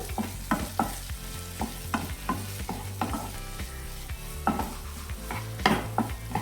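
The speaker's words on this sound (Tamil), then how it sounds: "தக்காளி ஆட் பண்ணி நல்லா வதக்கி விட்டுக்கோங்க." Tomatoes being sautéed and stirred with softened onions in a pan for bottle gourd kootu, a steady close sizzle broken by repeated spatula scrapes and stirs, with soft music underneath and no talking.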